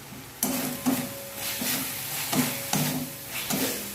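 A spice masala fries in a pan and is stirred with regular scraping strokes, each pass a close, bright rasp repeating about every half second over a steady sizzle.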